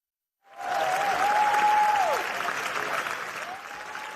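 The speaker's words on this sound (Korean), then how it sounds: "영화 브로커에 쏟아진 12분간의 기립박수" A film festival crowd gives a standing ovation for the film Broker, with applause starting abruptly after silence and holding as a dense, even roar of many hands, plus a faint whistle-like tone early on.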